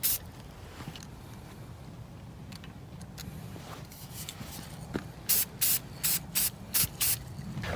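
Rust-Oleum shiny silver high-performance enamel is sprayed from a can onto a wooden glide-bait fishing lure carved from a 2x4. After a quiet start come about six short, loud, close hissing bursts in a quick, even rhythm.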